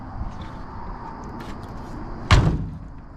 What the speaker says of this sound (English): that door shuts kind of nice